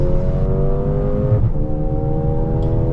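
A Mercedes GLA 250 compact SUV drives past on a neighbourhood street, its engine a steady loud hum that dips briefly midway then carries on, close by with no talking.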